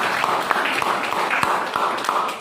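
A classroom of students claps for a question in a biology lesson, a brief, loud, busy patter of many hands with a few sharper slaps standing out, and no talk over it.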